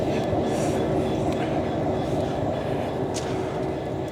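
A Class 66 diesel locomotive train rumbles past nearby, a steady heavy low drone with rolling rail noise and occasional squeaks, loud and continuous.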